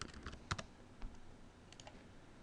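Keys click on a computer keyboard as a label is typed into control software, a scattering of quiet, uneven taps with one sharper keystroke, close and faint over a low room hiss.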